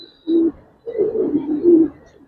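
Giribaz pigeons cooing close by, a short coo followed by a longer rolling burst of cooing, loud and clear without any voices.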